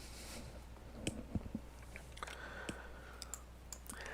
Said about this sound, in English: So I'm going to go ahead and click next.